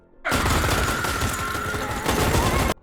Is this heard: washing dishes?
no